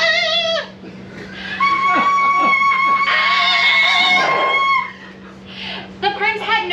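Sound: performers imitating birds singing

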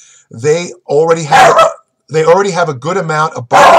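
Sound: dog barking

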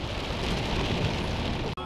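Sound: rain falling in the sierra

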